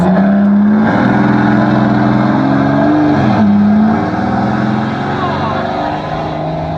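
A loud, close engine drone from the one-off Mercedes Exelero running down a private airport strip, heard from inside the car, holding steady revs then shifting and easing off, with a person talking over it.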